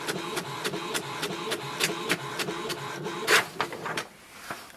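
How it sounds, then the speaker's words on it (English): An HP Tango inkjet printer prints a page, its repeated mechanical clicks and shuttling printhead passes arriving in a quick, steady rhythm, ending with a louder feed burst before the machine quiets. "Now it has sent a command and it has started the printing."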